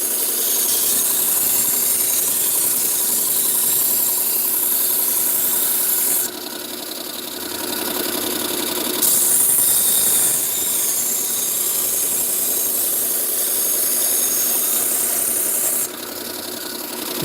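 A knife edge being refined on a powered sharpening machine, a steady loud motor whine with grinding hiss that shifts in tone as the blade is worked, continuous throughout with no talk.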